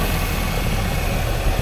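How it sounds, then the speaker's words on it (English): A 2025 Chevy Silverado 2500HD pickup with a 6.6 liter gas engine idles with a steady, low, even rumble, close and constant throughout with no talk. "the engine of this car is very quiet"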